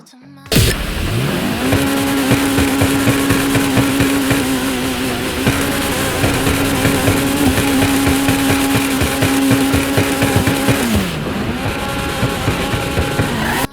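The Toundra Panthere car in a video game fires up and its engine revs hard, a loud sustained drone that climbs and holds before dipping as it shifts and pulls again, with no talking.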